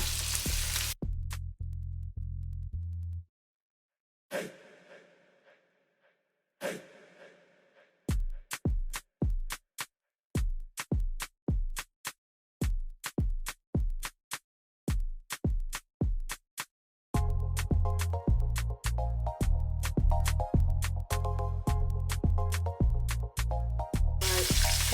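A salmon fillet sizzles in a frying pan, the frying sound coming in loud continuous bursts broken by brief silent gaps, then settling into a steady close crackle.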